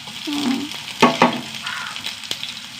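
Onions frying and being stirred in a pan, a close, soft sizzle broken by a few sharp scraping clatters from the stirring.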